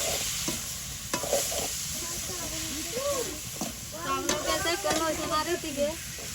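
Potatoes go into small river fish (icha) sautéing in a pan for a village curry, giving a steady hiss and sizzle with a few sharp clinks, while a voice talks over it.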